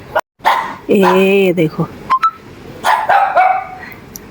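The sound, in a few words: dog barking from upstairs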